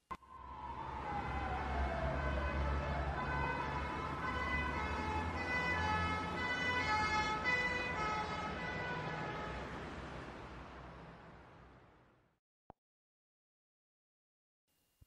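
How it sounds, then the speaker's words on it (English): An ambulance siren wails loudly for about twelve seconds, its pitch sweeping up and down over a low traffic rumble, then cuts off abruptly. "An ambulance has a special siren and flashing lights to warn people to get out of the way."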